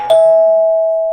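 A notification bell sound effect rings once, a bright clear chime that strikes sharply and then sustains a steady tone, loud and alone.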